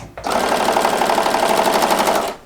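A sewing machine stitches quilting fabric for a waves quilt made from scraps, running in one continuous fast, rattling burst of needle strokes for about two seconds before stopping, close and loud.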